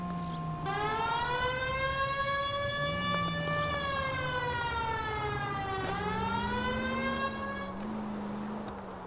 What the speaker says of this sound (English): Please, Phelps. The siren.